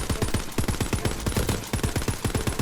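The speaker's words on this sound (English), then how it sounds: "Oh, people shooting at us." Rapid bursts of enemy gunfire in the fantasy shooter game Tiny Tina's Wonderlands, a dense run of sharp, evenly spaced shots rattling continuously and loudly with no talk over them.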